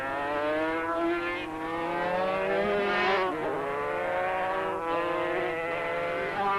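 Two 500cc racing motorcycles howl past on a track at a 1985 road-racing round, their high-revving engines loud and close with rising and falling pitch as they sweep by in quick succession.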